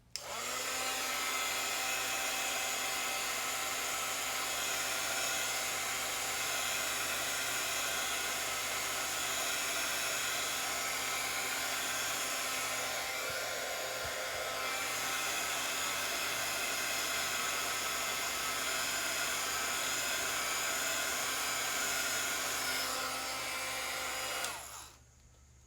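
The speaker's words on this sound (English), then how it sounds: "I'm gonna hit this with the blow dryer." Blow dryer running steadily at close range for nearly half a minute, a constant loud whir with a faint tonal hum, then cutting off abruptly near the end; no talking.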